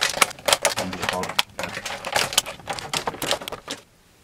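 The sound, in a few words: kitchen scissors cutting open plastic packaging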